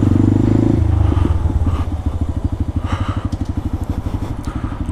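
A Honda Grom motorcycle engine chugging close by, a loud low pulsing exhaust that starts at a steady idle-like throb and then settles into a quicker, evenly spaced put-put beat.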